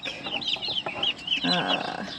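Black Copper Maran hens clucking and chirping in quick overlapping calls, close and steady, with other poultry among them.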